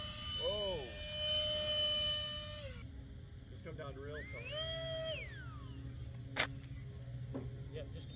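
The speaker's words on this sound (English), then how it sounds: "Damn, that engine winds out." A small turbine engine on a radio-controlled Tomcat model jet spools up with a rising, bending whine, settles, then winds up and back down again, loud and nearby, with people talking over it.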